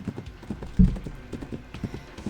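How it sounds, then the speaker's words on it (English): A striped horse with a red mane gallops through pouring rain in the video game Reverse: 1999, its hooves beating a quick steady clip-clop rhythm with one heavier thud partway through, close and fairly loud. "The striped horse with its red mane charges through the pouring rain,"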